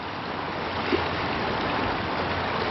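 Fast-flowing water of an old Bow River bypass channel during a flood, a steady broadband rushing roar that stays loud and unbroken throughout, with no voices.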